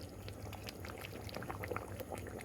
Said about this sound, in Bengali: আমি গরম জল দিলাম